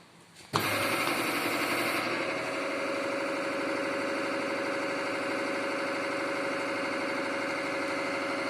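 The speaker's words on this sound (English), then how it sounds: "Start the hydraulic pump." A hydraulic pump on a compression testing machine starts up abruptly and then runs steadily, giving a loud, continuous mechanical drone with a fine vibrating hum, holding the same level throughout with no talking.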